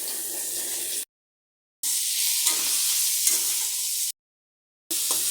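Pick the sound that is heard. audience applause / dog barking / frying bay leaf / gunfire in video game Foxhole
frying bay leaf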